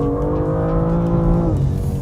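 A car engine drones loud and close under hard throttle as the car powers into a slide, with a steady, throaty note that shifts pitch near the end.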